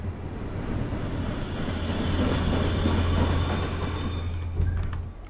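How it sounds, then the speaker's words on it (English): Train pulling into a station in a horror video game, a steady loud rumble of rolling wheels with a thin high squeal running throughout, no voices. "So this is my train?"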